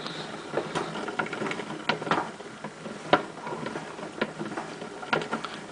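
A gramophone's crank is wound by hand, giving close, irregular mechanical clicks and ratcheting ticks over a few seconds.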